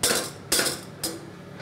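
A metal whisk strikes the side of a saucepan in a restaurant kitchen, giving three sharp, evenly spaced clinks about half a second apart, each ringing briefly before fading, with no talking.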